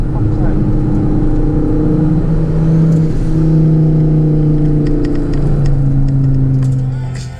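A Focus ST race car drives off the track at Silverstone, its engine droning and rising and falling in pitch at moderate revs, with a person talking over it.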